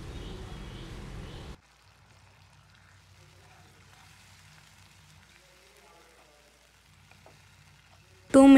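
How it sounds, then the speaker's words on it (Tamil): A pan of masala gravy for Chettinad chicken, with water and salt added, simmers quietly with faint bubbling and sizzling, coming after a short louder opening and cut off by a sudden sound at the end. "டூ மினிட்ஸ் கொதிக்கட்டும்,"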